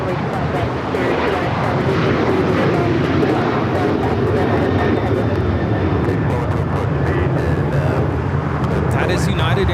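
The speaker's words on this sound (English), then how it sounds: "That is United Airlines 2667 taking off to Washington Dulles on the 737-900ER." A United Airlines Boeing 737-900ER takes off from runway 25 left at LAX, its engines a steady, loud broadband roar for the whole stretch, with voices faintly audible beneath.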